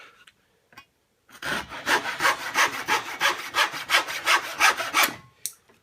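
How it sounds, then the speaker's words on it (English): Hand saw cutting the corners off a wooden cutting board, a run of about a dozen rhythmic rasping strokes close up, loud and steady, with no talking. "Cut off the corners."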